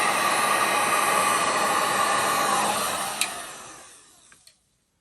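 A heat gun blows a steady, loud whooshing stream over a fluid art paint pour, then switches off and winds down, leaving a couple of small clicks.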